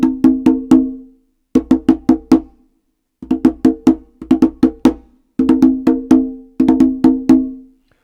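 Conga open tones played in quick bursts of four or five ringing strokes, pausing between groups, loud and close with no talking.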